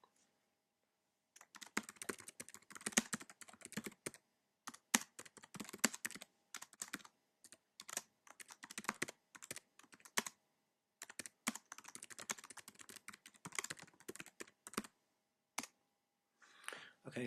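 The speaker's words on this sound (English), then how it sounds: "I can't speak and type at the same time, so I'll just write that out here" Computer keyboard typing in bursts of rapid key clicks with short pauses, close and fairly quiet, as a comment is entered in agileBase database software; no talking.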